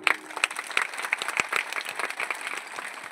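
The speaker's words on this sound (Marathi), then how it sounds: "टाळी पकवान पहिले टाळी" A crowd at a Mahashivpuran religious discourse in Jalgaon Jamod claps in sharp, fairly regular bursts, many hands together, loud and near, with a faint voice in the background.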